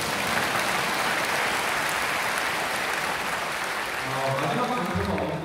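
Sustained audience applause in a large convention hall at a Christian business gathering, broad and continuous clapping that fills the space, with low murmuring voices emerging toward the end.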